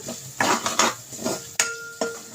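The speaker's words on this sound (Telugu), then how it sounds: "మసాలా ముద్ద అయితే ఇలా వేపుకోవాలి బాగా" A spoon scrapes and clinks against a pan while masala paste is fried and stirred, several sharp metallic knocks and scrapes in irregular rhythm, close and without talk.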